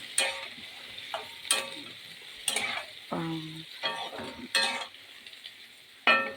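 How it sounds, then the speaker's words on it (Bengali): Leafy greens being stirred in a hot pan, with intermittent scraping strokes of a utensil over a soft sizzle, close and fairly quiet. "আমি এবার শাকটা চাপিয়ে দিচ্ছি। আস্তে আস্তে করে খুঁটিটা নেড়ে নেবো।"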